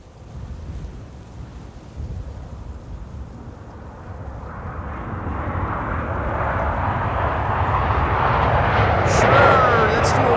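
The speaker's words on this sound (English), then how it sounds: "This is KLM Flight 622 arriving from Atlanta, Georgia." A KLM Boeing 777-300ER arrives at Amsterdam Schiphol Airport; the jet's roar swells from a low rumble to a louder, nearer wash with a rising whine, mixed with wind buffeting the microphone.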